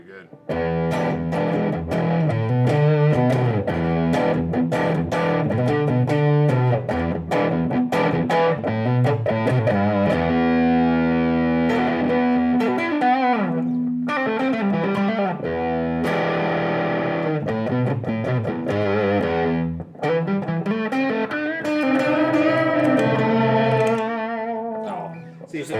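Electric guitar through an MXR Layer ambient effects pedal, a dense sustained wash of layered, smeared chords with shimmering, distorted swells that stays loud and continuous throughout.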